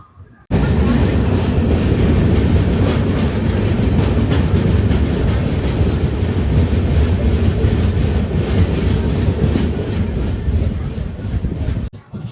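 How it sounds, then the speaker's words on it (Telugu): Kondaveedu Express of Indian Railways running on rails, a loud, steady rumble of wheels and carriages that continues throughout with faint rattling and no talk. "ధర్మవరం జంక్షన్కి కొంచెం ముందలైతే ట్రైన్ కొంచెం స్లో అయితే చేశాడు"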